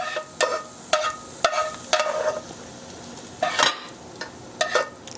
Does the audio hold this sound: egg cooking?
yes